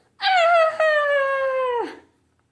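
A puppy in a children's picture-book read-aloud gives one drawn-out, whining howl lasting a second and a half, loud and close, then trailing off into silence with no talk.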